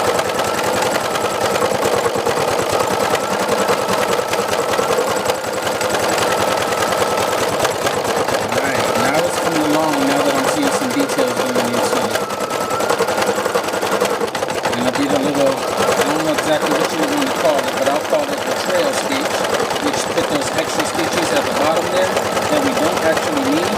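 An embroidery machine stitches a couples portrait design with a steady, fast mechanical hum and rattle, running continuously and loud, while a person talks over it.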